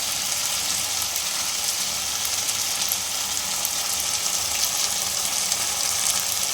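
Soybean chilli gravy bubbling and sizzling steadily in a pan on a home stove, a dense even hiss with soft popping that holds at a constant level throughout, with no voices.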